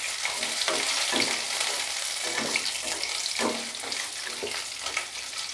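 Onion, garlic, bay leaf and dry spices roast in a pan for kadhai paneer, a steady close sizzle broken by rhythmic stirring scrapes, with no talk.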